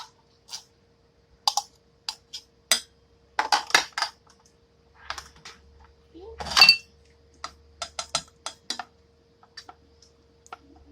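Enchilada casserole ingredients, including warm tomato paste and oil, being mixed in a bowl, heard as sparse, close clinks and taps of a utensil against the bowl with quiet gaps between them.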